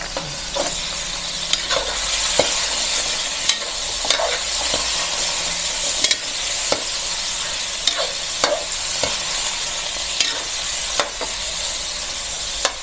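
Pancit canton noodles seasoned with pepper are stirred in a hot pan, giving a steady sizzle and hiss broken by repeated scraping strokes of the spatula at an even rhythm, close up and alone.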